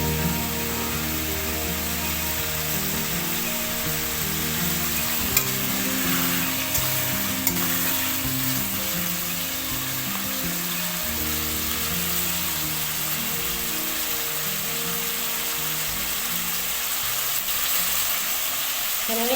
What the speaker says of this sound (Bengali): আলুটা লাল করে ভেজে কালো জিরে কাঁচা লঙ্কা আর জিরে আর কাঁচা লঙ্কা বাটা দিয়ে আমি কষাতে দিয়েছি